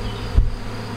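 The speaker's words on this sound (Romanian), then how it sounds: "Eu deși de vreo 3 săptămâni urmăresc albinele astea." Honey bees buzzing near a hive on a rural Romanian property, a steady close hum with a brief louder thump partway through.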